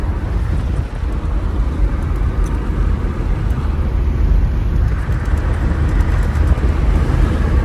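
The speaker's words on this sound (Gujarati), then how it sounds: "રામજી આપણા ગાડી ચલાવે નોર્મલ સ્પીડ." A car driving on the road is heard from inside as a loud, steady broadband rumble of engine and road noise lasting the whole stretch, with no talk.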